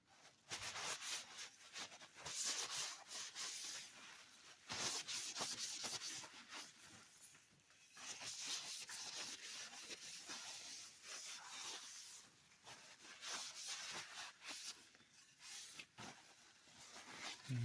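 Continuous rhythmic sanding rasps back and forth on a weathered wooden Savage rifle stock, quiet and close, with brief scraping strokes and no voices.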